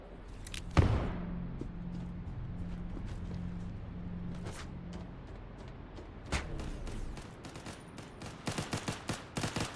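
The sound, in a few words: carbine firing like an SMG in sci-fi shooter video game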